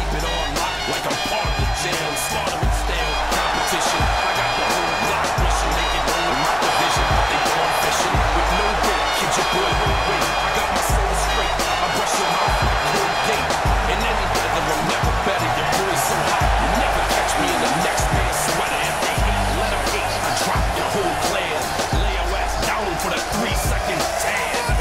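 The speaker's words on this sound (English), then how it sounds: "it sounds like this arena is right there with them." Virtual wrestling arena crowd in WWE 2K18 roars steadily and loudly throughout, a dense sustained cheer with rhythmic thumps and commentary voices layered over it.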